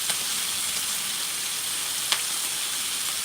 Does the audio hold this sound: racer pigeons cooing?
no